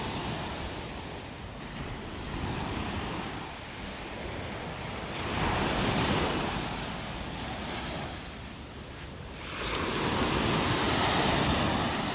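Ocean waves breaking on a beach in North Naples, Florida, on an early morning; continuous surf with rolling swells that swell and recede in several broad surges, mixed with wind noise against the microphone, no talking.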